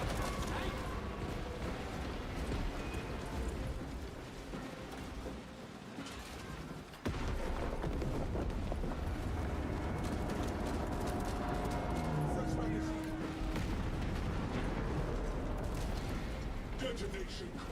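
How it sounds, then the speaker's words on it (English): Charges detonating in the Warhammer 40000: Space Marine 2 video game, a loud sustained rumbling roar of blasts and debris that drops briefly and surges back, with voices speaking under the din. "Detonate the charges now."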